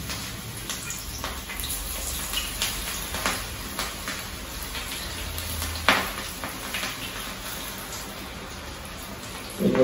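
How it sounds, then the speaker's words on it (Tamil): Banana flower pakoda batter dropped into hot oil gives a steady, soft crackling sizzle throughout, with a few louder pops and no talking. "கொஞ்சம் எண்ணெய் காஞ்சிருக்கு, அதில் இப்படி போட்டுக்கலாம்."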